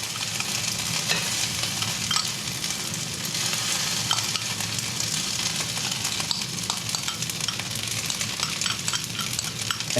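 Rice fries in a hot pan with a dense, continuous crackling sizzle and occasional faint scraping from stirring. It stays loud and close throughout with no talking.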